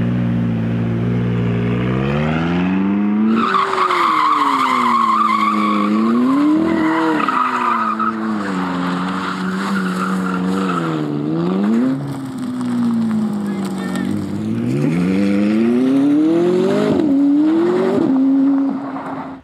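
A McLaren 675LT engine revs hard through repeated rising gear pulls in a supercar drag race, with tires squealing and skidding loudly between bursts of acceleration.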